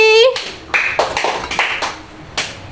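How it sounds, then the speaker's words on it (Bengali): Children clap for Riya during a bottle flip game held for the Rath Yatra festival, with short bursts of clapping and taps mixed among voices, loud and close. "রিয়ার জন্য জোরে হাততালি"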